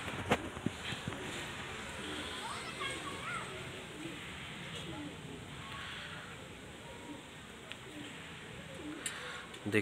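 Pigeons softly cooing in a loft among a pair of thin-bodied pigeons, faint and distant under steady background noise, with children's voices and occasional talk nearby.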